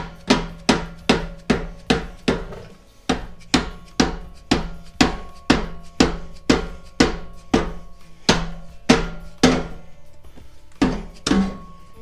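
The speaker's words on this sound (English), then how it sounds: "We'll see if this hammer helped tap them back just a little bit." Sharp metallic hammer taps on exhaust clamps of a 2020 Mustang GT, about twenty evenly spaced strikes at a steady rhythm, close and loud, each ringing briefly before the next.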